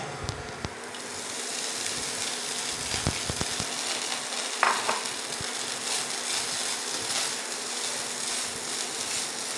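Chicken lollipops for malai kulfi chicken hit hot oil in a pan and fry with a steady, dense sizzle, broken by a few brief stirring knocks near the start.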